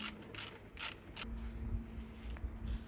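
A ratchet wrench tightens the bottom brake caliper bolt on a 2016 Toyota Verso 1.8 VVT-i during a front brake pad change, with several quick bursts of close clicking followed by quieter mechanical handling.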